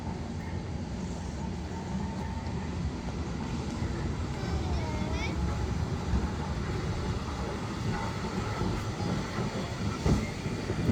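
A heritage tram rolls past at Crich Tramway Village, a steady rumble and clatter of wheels on rails with faint squeals, close by and continuous, with some voices in the background.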